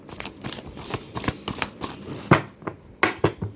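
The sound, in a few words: tarot cards being shuffled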